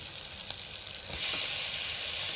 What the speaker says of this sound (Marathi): आता बघा ह्याच्यामध्ये सोडून देते वांगी